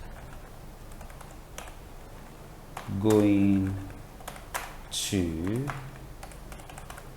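Rapid, light key clicks from a computer keyboard tap along steadily, with someone speaking briefly over the typing twice.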